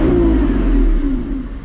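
A Lamborghini Revuelto's naturally aspirated V12 revs hard, a loud, close, smooth high-pitched engine roar that holds steady and eases slightly before picking up again.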